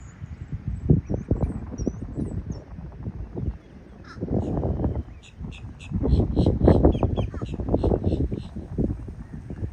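Sandhill cranes outdoors give a run of rattling, repeated calls, at a moderate distance above a rumbling low background that may include some voice.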